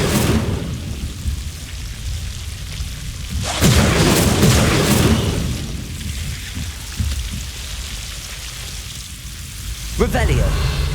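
An Incendio fire spell cast in the Hogwarts Legacy video game erupts in loud, roaring bursts, one long surge and a sharper later blast, over a steady rain-like ambient hiss.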